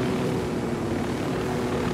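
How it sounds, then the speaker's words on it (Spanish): A helicopter in the video game Ghost Recon Wildlands gives off a steady, even rotor and engine drone, heard up close and alone for a couple of seconds. "fíjate cómo hacemos con el helicóptero, ¿ves?"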